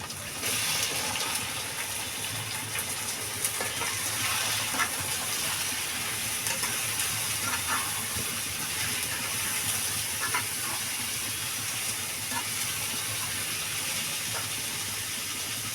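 Cut potato and brinjal frying in a pan for a Bengali vegetable curry, a continuous hissing sizzle with faint crackles, steady and even from start to finish, no talking.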